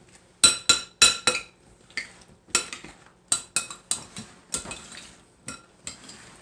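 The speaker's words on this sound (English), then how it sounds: "Just going to take my spoon and kind of mix that around with the flavors going in there." A spoon clinks and scrapes against a bowl while mixing bruschetta topping, giving a series of close, sharp taps in uneven bursts.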